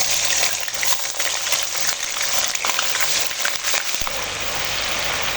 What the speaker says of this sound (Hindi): अब इसी में मैं लहसुन अदरक 1 टेबल स्पून डालने लगी हूँ।